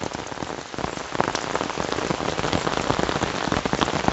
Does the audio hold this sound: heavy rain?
yes